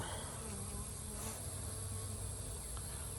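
Honeybees hum steadily in a dense, continuous drone around an open hive in an apiary, heard close with no voices over it.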